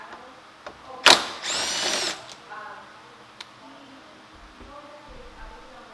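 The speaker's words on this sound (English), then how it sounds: "start removing the bolts we need to take out" A power drill spins out bolts on the bumper of a 2016 Volkswagen Jetta, one sharp whir followed by a longer buzzing run of about half a second, close and loud, then quiet with small clicks and handling noises.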